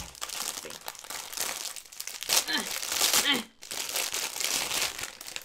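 Crinkly plastic packaging rustles and tears as a pencil bag is unwrapped close by, a busy stream of crackles with a few sharper rips, while a person talks over it.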